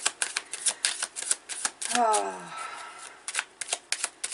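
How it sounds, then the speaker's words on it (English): Rapid crisp riffling of playing cards being shuffled up close, repeated flurries of snapping with a softer sliding pause in the middle. "I'm just going to start shuffling and let the energies come in."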